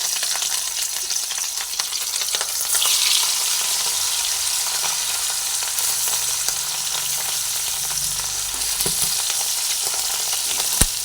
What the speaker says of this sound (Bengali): আর অন্যান্য মাছগুলোকেও এক এক করে তেলের মধ্যে দিয়ে ভেজে নিচ্ছি